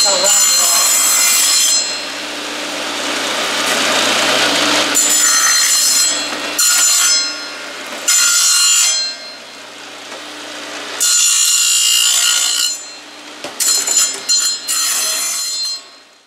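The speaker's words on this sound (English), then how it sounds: "We'll go ahead and run it through the table saw and trim it up just a tad." A table saw cutting and trimming wood in a workshop, loud and close, with several long, harsh cutting passes broken by short pauses where the motor hum carries on alone.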